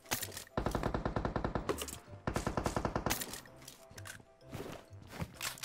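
Bursts of automatic gunfire in the mobile battle royale game PUBG Mobile on the Erangel map, fast evenly spaced shots in two long loud volleys, then scattered single shots and faint noise, with no talking.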